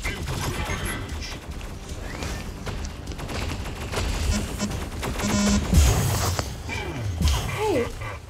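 Dense incoming gunfire and explosions from a video game rattle nonstop, with bursts of shots and heavier booms layered over one another and voices talking now and then.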